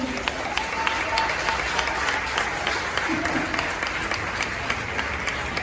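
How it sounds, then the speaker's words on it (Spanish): A room full of people at a church retreat claps steadily for several seconds for a priest, a dense, even applause with a voice faintly audible beneath it. "Un aplauso para el padre."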